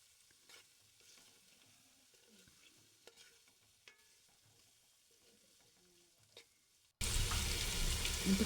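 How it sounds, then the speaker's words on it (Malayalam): Mango curry being stirred in a pan, with soft scraping and faint sizzling running steadily and quietly at close range; a loud burst of noise cuts in near the end. "മാങ്ങയെല്ലാം ഫുൾ ഇട്ട് കഴിഞ്ഞിട്ട് നന്നായിട്ടൊന്ന് ഇളക്കി മിക്സ് ചെയ്യണം."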